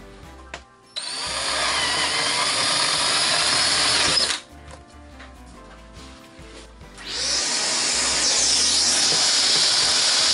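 A power drill boring a hole in a resin mold whines up loudly and runs steadily, drops to a quieter idle for a few seconds, then spins up again to a high, sustained whir, close and without speech.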